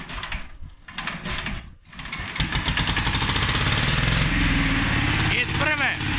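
A cold Bedogni Olympia Italian diesel mower engine is cranked in winter, with a few rough pulls, then catches and runs loud and steady, with a short voice near the end.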